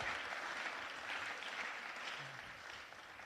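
A council meeting audience gives a round of applause for members of Delta Sigma Theta Sorority, a soft, steady patter of many hands heard at a distance, holding even and then easing slightly.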